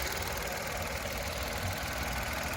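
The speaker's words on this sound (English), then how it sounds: "That's the engine." A 2017 Mitsubishi Mirage G4 idles close by, giving a steady, even engine hum with a faint rumbling vibration that carries on unbroken and with nothing else over it.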